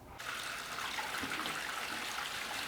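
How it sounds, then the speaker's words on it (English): A toilet flushing upstairs in a house, heard through the ceiling as a steady rushing gush of water that rises abruptly and keeps flowing, fairly faint and muffled, with no talking. "Yeah, the toilet flush from above stairs."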